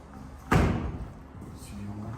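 An old door in a castle is swung open, giving one heavy thump with a short low rumble after it, close by and loud against a quiet indoor background.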